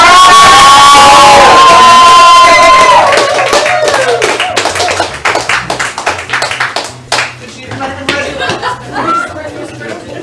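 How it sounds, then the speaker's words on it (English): An improv comedy show audience in St. Pete claps and cheers loudly, then the applause thins into scattered claps, taps and crowd chatter, with voices calling out over it. "Let's cheer for them to come back in."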